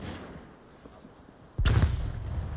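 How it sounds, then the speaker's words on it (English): A single sharp burst of gunfire cracks out in the VR shooter Onward, loud and close after a low, quiet background, its noisy tail lingering to the end. "Hoochie puts down some rounds"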